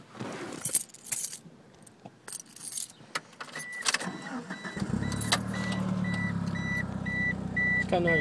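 A 1997 Mitsubishi Eclipse Spyder GST with a full catback exhaust starts up after a jingle of keys and clicks, then settles into a steady idle. A repeating warning chime beeps over the engine's hum.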